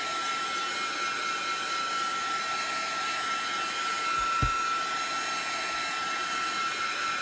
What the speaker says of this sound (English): As I get my hair dryer going here.